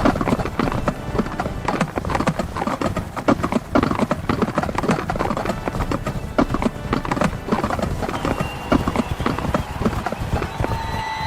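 Horses galloping in a race thunder continuously with dense, overlapping hoofbeats that stay loud and close throughout, with a whinny or two mixed into the driving clatter.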